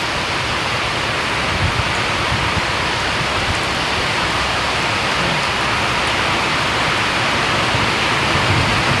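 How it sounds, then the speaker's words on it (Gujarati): Heavy rain pours down steadily, heard from inside a large GCB garage, a dense continuous hiss and patter holding at an even, loud level for the whole stretch with no voices. "વરસાદ આવી ગયો પાછો કાલને જેમ"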